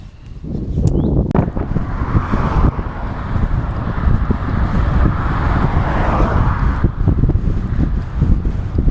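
On a road bike ride along open roads, strong wind roars steadily across the microphone, a continuous loud rumbling gust with passing traffic blended in.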